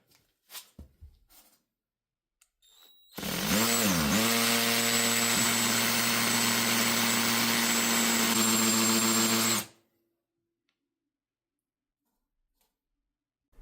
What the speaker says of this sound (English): Here I am now changing it over to the hammer mode, and the drilling goes a lot quicker